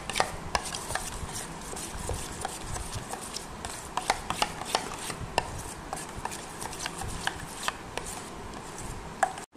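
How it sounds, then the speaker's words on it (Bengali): Sour yogurt is whisked in a bowl, producing a fast run of close, light clicking and scraping strokes in an uneven rhythm. "এবার আমি টক দইটাকে ভালো করে একটু ফেটিয়ে নিচ্ছি।"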